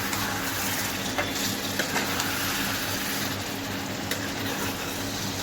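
Potatoes frying in a pan for a Bengali rohu fish and potato curry, a steady, close sizzle with a few faint stirring clicks running unbroken throughout.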